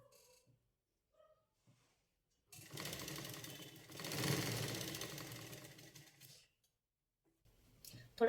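A sewing machine stitches the finishing seam on a garment sleeve, running in one steady, fairly loud burst of about four seconds between quiet pauses.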